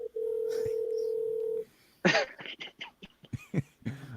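A steady telephone tone hums for about a second and a half and then stops, followed by a person coughing or clearing their throat and speaking nearby.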